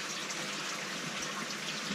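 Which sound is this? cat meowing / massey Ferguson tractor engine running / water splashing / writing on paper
water splashing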